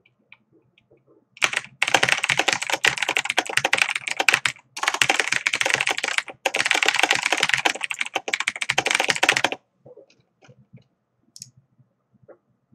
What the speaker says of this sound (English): I can type really, really quickly.